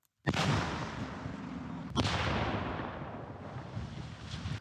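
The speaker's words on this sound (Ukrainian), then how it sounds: "потужні вибухи привернули увагу дронів" Two heavy blasts from anti-tank mines and TNT blowing up a railway track, the second about two seconds after the first, each a broad rumbling roar that lingers and rolls on with no voices.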